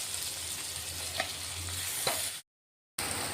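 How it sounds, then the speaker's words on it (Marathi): Finely chopped tomato frying in hot oil with asafoetida, a close, steady sizzle with a few soft stirring taps, cutting out briefly to silence before the sizzle resumes. "बारीक कट केलेला टोमॅटो टाकून घेऊ."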